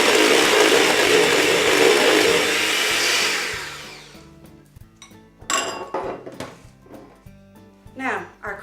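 An electric hand mixer runs steadily and loud in a bowl of cream cheese for a few seconds, then cuts out, leaving clinks and scrapes of the bowl and beaters, with no talking.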